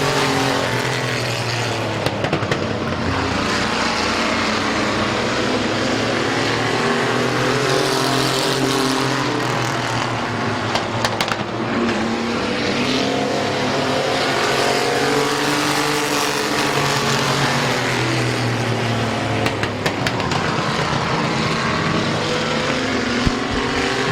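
Race cars roar around Midvale Speedway in a loud, continuous multi-engine drone, pitches rising and falling as they pass close by, with a faint announcer voice underneath.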